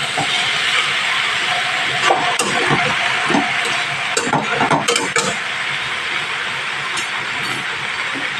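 Bottle gourd stems and greens fried with prawns in a pan, a continuous close hiss of frying with scattered scraping and clatter from stirring, no talk.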